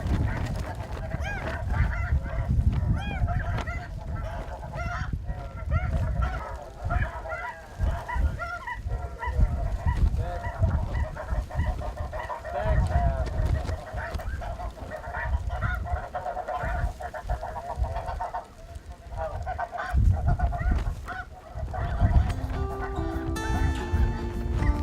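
A large flock of snow geese honks continuously, a dense clamor of overlapping calls filling the air, loud and sustained throughout.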